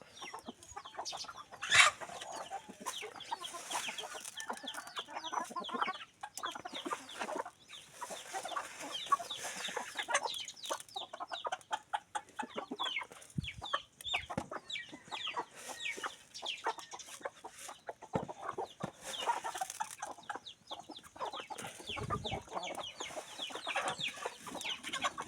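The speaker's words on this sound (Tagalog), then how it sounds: "Ano siya manok na guys ha." Chickens cluck and fowl chatter in a Philippine outdoor setting, with repeated close clucks and squawks scattered through a busy ambient background and no clear talk.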